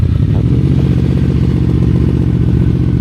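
A QJMotor Flash 600 V4 motorcycle idling at a slightly raised idle through its four-outlet exhaust: a loud, close, evenly pulsing low burble that throbs steadily throughout, with no revving and no voices.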